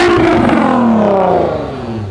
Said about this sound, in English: I want to hear your engine quickly.